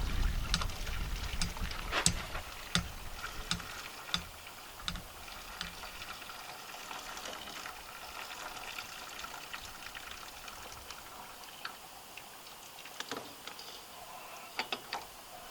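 Hot water is poured off a pot of cooked spaghetti at a camper trailer, a hissing, splashing stream that is strongest at the start and then thins into scattered drips and clinks.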